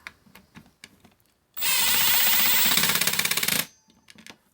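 A screw on a Milwaukee 2429-20 M12 sub-compact band saw is driven by a power driver in one loud, rattling burst of about two seconds, with soft handling clicks before and after.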